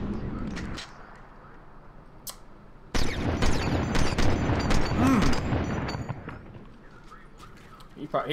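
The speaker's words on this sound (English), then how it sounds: "We're gonna go into some more shooting over here." Fortnite gunfire in a solo match crackles in bursts of rapid shots amid clinks and game ambience, fairly faint and continuous through the middle of the passage.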